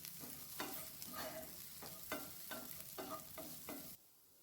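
Kothu chapati stir-fried in a pan, with repeated scraping stirs over a steady close sizzle, about eight rhythmic strokes before the frying cuts out.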